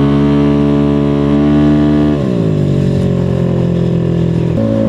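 A motorcycle engine revs hard at high RPM, loud and close, its tone holding steady before dropping and settling into a lower sustained pitch, then rising slightly again at the end.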